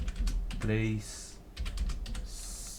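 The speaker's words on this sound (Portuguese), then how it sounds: "fui apertando o teclado e não olhei" Quick keyboard keystrokes clatter in short bursts during a Portuguese-language elementary math lesson, with a teacher speaking over and between them.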